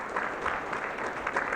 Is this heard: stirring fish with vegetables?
no